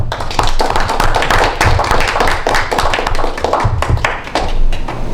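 Audience at a Toastmasters-style table topics meeting claps steadily to welcome a guest speaker, a loud, close, continuous patter of hands with no talk.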